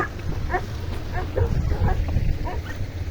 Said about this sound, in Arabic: الكلاب كينبحو عليا